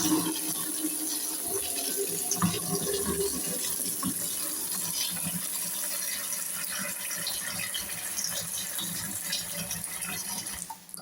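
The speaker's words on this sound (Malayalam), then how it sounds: "ഇത് നമ്മൾ തണുത്തിരുന്ന മുട്ടയല്ലേ, അത് കാരണം നമ്മൾ കുറച്ച് നേരം വെള്ളം ഒഴിച്ചൊന്നിട്ടേക്കാം" Cold tap water runs steadily over eggs just taken from the fridge, a continuous close splashing rush in a home kitchen lasting the whole stretch, with no talk.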